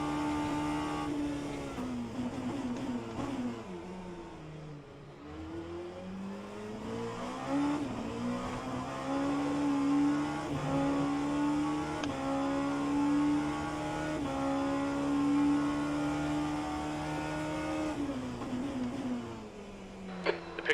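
Race car engines in the rFactor 2 video game, on a Le Mans Virtual Series endurance run at Bahrain, whine steadily and rise in pitch through repeated gear changes, with a sustained loud drone and small shifts between gears.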